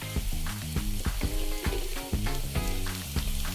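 Ginger-garlic paste and chilli hitting hot oil for an eel fish curry, a loud crackling sizzle broken by repeated sharp clanks of a spoon against the pan in an uneven rhythm.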